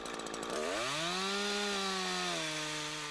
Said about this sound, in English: Now it's time for the felling cut.